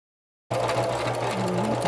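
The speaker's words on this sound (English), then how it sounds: "Do a little back stitch at the end just to secure the stitches." A sewing machine runs steadily, back stitching at the end of a seam while assembling Christmas cards, giving a continuous close, loud mechanical hum and rapid needle chatter that starts abruptly after a moment of silence, with no talk.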